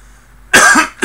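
A single loud, close cough bursting out after a moment of near silence, followed by the start of a second one.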